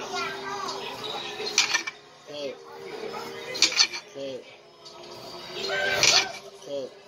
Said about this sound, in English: you take the potato and you cut it in slices